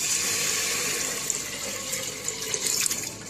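Water poured into a pressure cooker around a cake mold set in the center, a steady splashing trickle that runs continuously for several seconds, close and moderately loud, with no talking.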